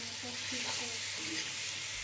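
Beans, tomatoes, onion and garlic frying together in a pan, a steady close sizzle with faint stirring scrapes running throughout.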